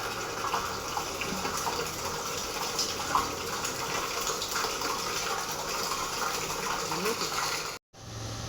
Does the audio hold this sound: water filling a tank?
yes